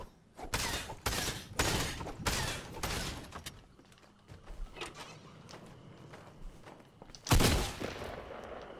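Gunfire in the video game Fortnite: a rapid volley of loud, close shots in the first few seconds, a quieter stretch of movement, then one more heavy blast near the end.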